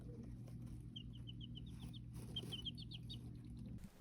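Chickens cluck softly in a quiet room, a string of short repeated clucks under a steady low hum, fairly faint and close by.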